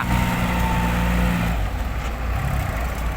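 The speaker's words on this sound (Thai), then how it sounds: "รถไถสายดันจริงๆ ครับคันนี้ ดันทุกอย่างที่ขวางหน้า" A Kubota tractor's diesel engine labours loudly and continuously as it pushes mud along the bottom of an old pond toward a waiting backhoe, droning close by with no talk.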